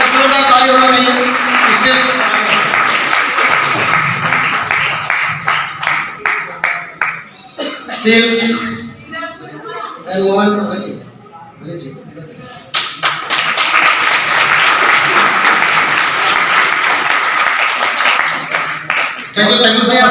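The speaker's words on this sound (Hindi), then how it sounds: "साथियों, जोरदार ताली होना चाहिए।" Audience clapping at a grand seminar in Delhi: loud, sustained applause that drops away for several seconds while voices talk, then swells again to the end.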